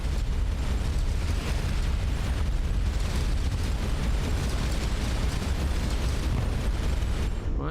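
Continuous loud rumbling explosions from an enemy missile launcher being destroyed in the space game Starcom: Unknown Space, a dense sustained roar of bursts with no talk.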